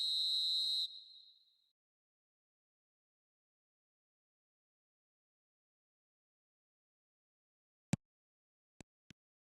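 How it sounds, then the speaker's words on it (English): A referee's whistle in a video game football match gives one loud, steady blast that trails off, then silence, followed by a few sharp clicks near the end. "There's the whistle."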